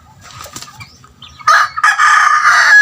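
Gamefowl roosters being handled: faint clucks and rustling give way to a loud, close, sustained crow that dominates the second half.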